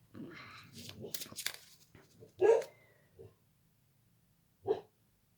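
A female dog barks in short, separate yelps indoors, a couple of sharp bursts spaced a few seconds apart, following a stretch of quiet speech and faint background hum.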